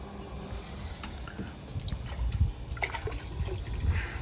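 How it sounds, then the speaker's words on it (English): A water pump pushes water through a cold plunge tub chiller, giving a continuous trickling, splashing flow that swells slightly louder partway through, close by with no talking. "It's a good flow for the water pump"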